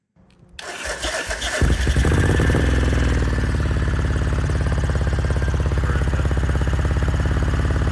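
A Ducati bevel-drive motorcycle engine with a fresh tank of fuel cranks and catches, then settles into a loud, steady, close-up running beat with a rapid pulsing rhythm. No talking.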